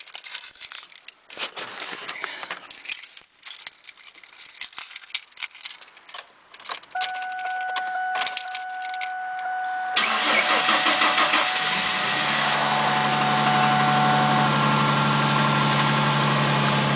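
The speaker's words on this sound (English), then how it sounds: "I'm going to do a cold start here of my 2000 Ford Mustang." A 2000 Ford Mustang engine cold-starting after a day and a half outside at about -15°C, with keys jangling first, then the starter cranking and the engine catching into a loud, slightly rough steady idle close by.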